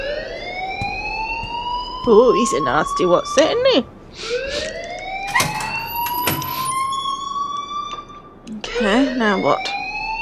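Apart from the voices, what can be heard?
alarm ringing in the video game Life Is Strange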